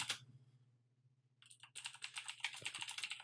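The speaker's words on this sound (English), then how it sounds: "your keyboard is clicky" Rapid typing on a clicky computer keyboard at a podcast recording desk: a brief clatter, a pause, then dense, steady keystrokes, close and fairly quiet.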